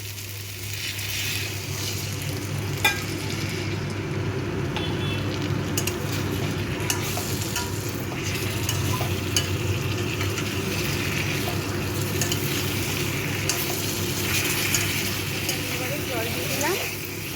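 Jackfruit curry simmering and frying in a pan as water is added, a steady sizzle with stirring and scraping running throughout, alongside a low constant hum.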